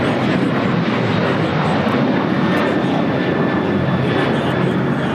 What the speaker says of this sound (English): This is American Airlines 1585 taking off to Chicago O'Hare on a 737-800.